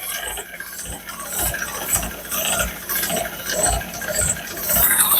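A wrench ratchets in short clicking bursts while adjusting a part on a 1985 Cadillac, close up and fairly loud, with no talking.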